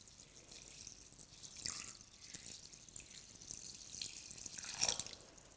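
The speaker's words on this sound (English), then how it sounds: "I'm just going to cover them with cold water out of the tap." Cold water from a tap runs and splashes softly into a bowl, a faint continuous trickle with a few louder splashes.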